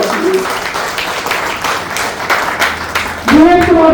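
An audience claps through most of the stretch, a moderately dense patter of hands, before a voice enters near the end and speaks over the fading applause.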